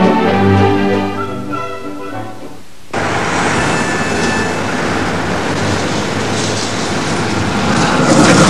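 A Viennese urban train or tram rumbles loudly and steadily nearby. The tone shifts abruptly partway through to a broader, noisier roar.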